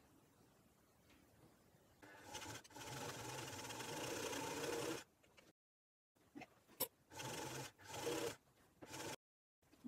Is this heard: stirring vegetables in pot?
no